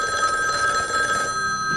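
A telephone bell rings steadily and loudly in the 1974 horror film Black Christmas, a continuous bright, trilling ring with no pauses.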